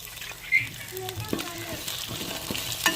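Green peas, ginger and garlic fry in oil in a pan, a soft steady sizzle with scattered stirring clinks, heard close and fairly faint, with a voice speaking over part of it.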